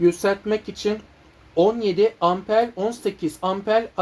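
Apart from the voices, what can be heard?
None of the usual background noises is heard.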